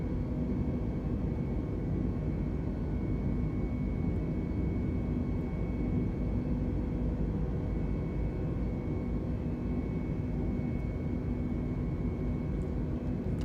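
An Airbus A320neo climbing after takeoff in Microsoft Flight Simulator 2020 gives a steady, unbroken engine roar with a faint constant whine on top, even in loudness throughout.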